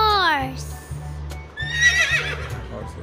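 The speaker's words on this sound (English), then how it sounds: "Horses. Wow," A horse whinnies in a falling neigh at the start, then another high whinny follows, with soft hoof clip-clops and music beneath.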